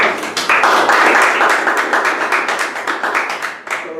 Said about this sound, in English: It needs a big round of applause.